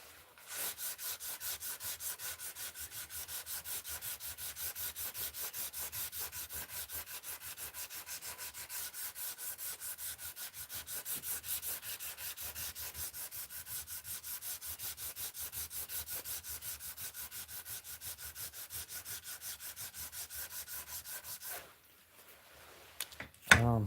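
Sandpaper rubs back and forth across a surface in quick, even strokes, close and steady for about twenty seconds before stopping, followed by a few brief clatters.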